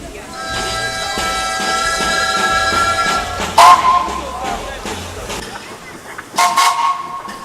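The narrow-gauge steam train Ferdinand pulls away on the Gulbene–Alūksne railway with a sustained whistle-like tone, then two brief louder toots, over a low rumble and hiss from the line, with a voice talking throughout.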